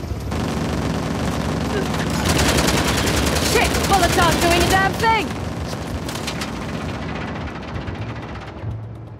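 Rapid automatic gunfire rattles in dense, loud bursts during a firefight in Uncharted: The Lost Legacy, with explosions and other combat sounds mixed in and speech partly under the shooting.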